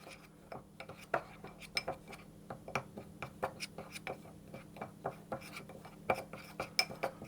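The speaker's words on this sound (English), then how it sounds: "3 spices into a little dish. I'm just going to give those a mix together." A small spoon clinks and taps lightly against a little dish, mixing three spices together in a quiet kitchen, with soft, rapid, irregular ticks.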